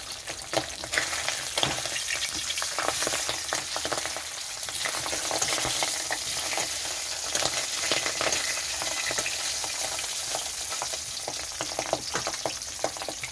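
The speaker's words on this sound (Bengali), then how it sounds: "মাছটা ঢাকা দিয়ে ভাজতে হবে তা না হলে গায়ের মধ্যে তেল ফুটে চলে আসে" Pabda fish fry in hot oil under a lid, giving a constant, moderately quiet crackling sizzle with tiny spits and pops throughout. No one speaks.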